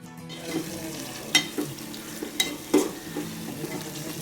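Eggs fry in a pan at home with a steady soft sizzle, broken by a few sharp clacks and scrapes of a utensil stirring against the pan.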